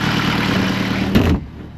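A boat engine idles close by with a steady low rumble, swells briefly as the revs are eased back, then settles to a quieter idle with no talking.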